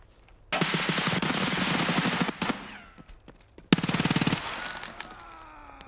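A Vector .45 submachine gun fires in a video game, running low on ammo. It lets out a long rapid burst, then after a short pause a second, shorter burst, loud and close with no talking.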